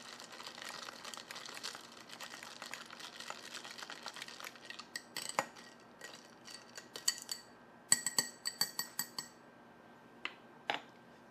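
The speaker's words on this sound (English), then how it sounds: "I'm gonna give this a little stir." Whiskey cocktail being stirred in a glass, with light clinks and crinkly scraping building into a cluster of sharp glassy taps near the end, close and fairly quiet.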